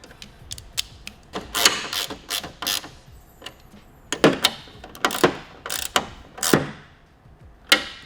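A hand ratchet clicks in short, irregular bursts while tightening 10 mm bolts that hold a pickup truck's tail light, crisp and close with brief pauses in between.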